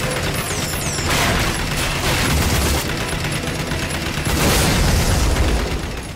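Gunfire and explosions in the first-person shooter Rage, dense rapid shots and booming blasts layered over one another, loud and continuous for several seconds.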